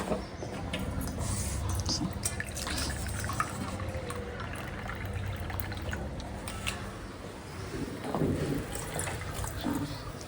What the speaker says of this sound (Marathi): मला अजून पाणी टाकावं लागणार आहे त्यामध्ये